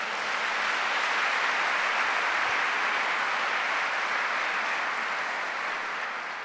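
A church congregation at a Sunday service applauds, producing a steady, dense hiss of many hands clapping together at even volume, fading slightly at the end.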